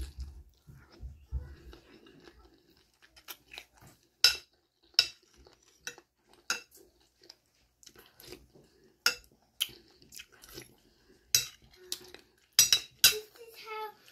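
Spoons and dishes clink sharply and intermittently as someone eats sinigang na hipon, a Filipino sour shrimp soup, with close, irregular taps and scrapes, soft chewing and occasional talking in between.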